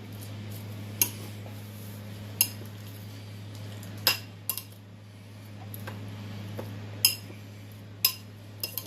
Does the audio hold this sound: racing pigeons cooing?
no